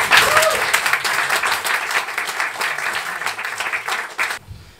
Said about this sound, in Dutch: Maak een hartelijk applaus voor Olly Suikeling.